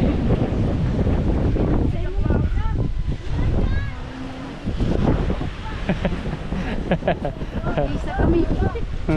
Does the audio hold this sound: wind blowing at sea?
yes